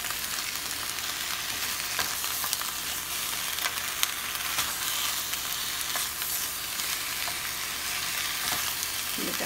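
Hibachi vegetables sautéing in melted butter with teriyaki, a steady close sizzle with small crackles and occasional utensil taps throughout.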